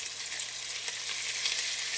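Butter browns in a hot pan on the way to beef stroganoff, giving a steady, close, bright sizzle that holds even throughout with no voices.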